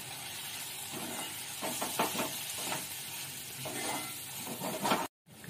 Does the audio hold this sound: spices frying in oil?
yes